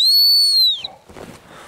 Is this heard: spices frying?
no